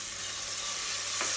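Butter melting in a preheated saucepan, a steady close sizzle hissing alone with no talk.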